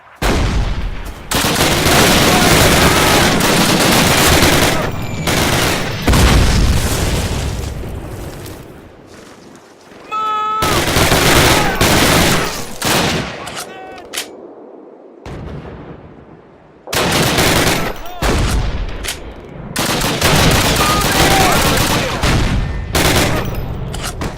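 Gunfire and machine-gun bursts in the Call of Duty video game, with dense, loud volleys and booming artillery filling most of the stretch, dropping out briefly in the middle before heavy firing resumes.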